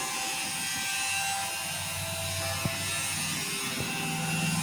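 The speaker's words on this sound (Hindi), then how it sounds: "अब इसका जो पिछला हिस्सा है, पहले हम उस पर सिलाई करेंगे।" Sewing machine runs steadily while stitching a saree, a continuous close mechanical whir with a couple of brief clicks, no voices.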